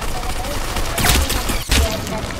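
A gun fires in a video game in short bursts, two loud clusters of shots over a steady background of game sound, with no talk during the shots.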